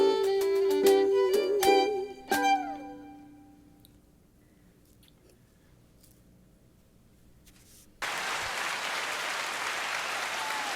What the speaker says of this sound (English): The applause button is going wild for Allison Lynch and all four of her.